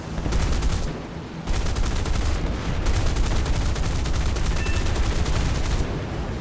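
Dense, sustained gunfire from a War Thunder battle rattles loudly through most of the stretch, with rapid bursts packed together and a short lull near the start.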